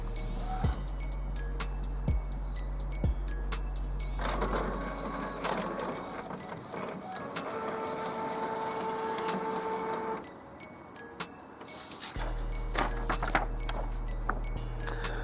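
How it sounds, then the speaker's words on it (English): An Epson Stylus SX610FW inkjet printer prints a nozzle check pattern, with a low mechanical hum, repeated carriage shuttling and clicking, and a quieter stretch mid-way before the motor drone returns, loud and close. "we just want to go down to Nozzle Check, click OK, and then start"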